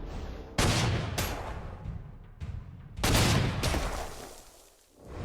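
Two heavy artillery blasts from the Panzer Corps 2 wargame each hit with a sharp boom that rolls into a long, rumbling decay and scattered crackles, with a quieter thud near the end.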